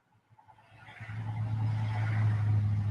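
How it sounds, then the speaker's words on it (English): Road traffic rumbles nearby as a car approaches and swells into a steady, loud low engine drone, with no talking. "So much traffic right there. So loud. Can you guys hear the cars going by?"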